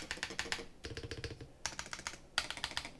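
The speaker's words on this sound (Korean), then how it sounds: "특히 이 스페이스바 키가 좀 살짝은 정숙한 느낌입니다." Keys on an MCHOSE JET75 magnetic-switch gaming keyboard are typed in quick bursts of clacks, including space bar presses, close and quiet, in four separate runs with brief pauses and no talking.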